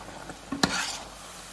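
A pan of food fries with a soft steady sizzle, interrupted by one sharp clink and scrape of a utensil midway.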